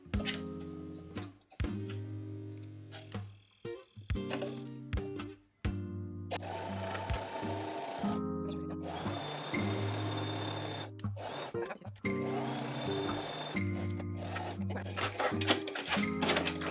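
A sewing machine overlocks the edge of a fabric tote bag, handles included, with a zigzag stitch, running in several short bursts of whirring separated by pauses and quieter sounds.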